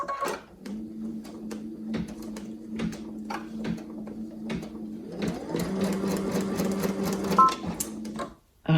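A computerized embroidery machine stitches a design onto a new sweatshirt. It gives a steady, close, rhythmic whirring hum with fast ticking needle strokes, shifts to a busier, higher pitch partway through, then cuts out abruptly near the end.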